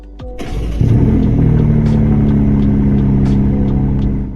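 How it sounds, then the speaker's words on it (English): Engine start-up of a BMW M3 CS in the Roblox game Greenville: a starter whir, then the engine catches with a loud burst and settles into a steady, deep idle rumble with no talking. "Actually, one of the most realistic sounding startups for any car in game."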